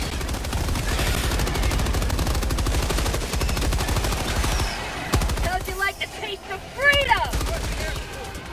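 A sentry turret fires in Helldivers 2 during a fight with a Bile Titan at level 3, a loud, steady stream of rapid automatic shots for several seconds that then breaks into scattered bursts as players' voices come in.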